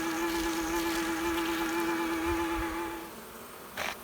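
An Everything Bee Vac bee vacuum runs on a roof during a chimney bee removal, giving a steady humming drone with buzzing bees, then dropping away near the end.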